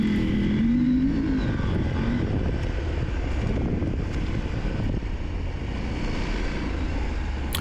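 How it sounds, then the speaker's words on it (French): An enduro motorcycle rides a gravel trail, its engine steady and close with short throttle blips and a brief rising rev near the start, all under heavy wind buffeting. "moi je m'amuse à mettre des petits coups de gaz"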